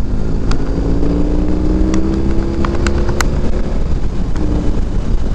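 A BMW R18 motorcycle cruises on a chilly road, its engine giving a low, steady drone that is loud and close. Wind rushes over the rider, and a faint tonal whine drifts upward in pitch as the bike accelerates.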